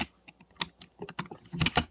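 A series of computer keyboard keystrokes entering a networking command, close and crisp, with irregular clicks that bunch into a quicker flurry near the end.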